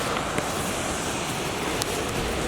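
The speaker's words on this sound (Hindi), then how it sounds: "यहाँ पे जो झरना है वो बहुत सुंदर" Devdhara waterfall, a steady, dense roar of falling water that stays constant and fairly loud throughout, with no talk.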